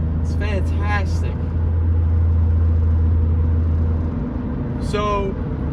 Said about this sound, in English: Oh, I love the sound of this car. It's like an old Porsche.